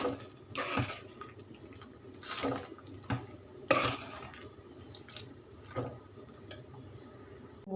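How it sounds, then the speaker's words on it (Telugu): Water being poured into an ivy gourd masala curry in a pan and stirred in: wet squelching and sloshing with several louder scraping strokes of a spoon against the pan, at close range and without speech. "కొన్ని వాటర్ పోసి పేస్ట్ అంతా ముక్కలో పడ్డట్టు మంచిగా కలుపుకోవాలి గ్రేవీకి సరిపడా వాటర్ పోసుకోవాలి"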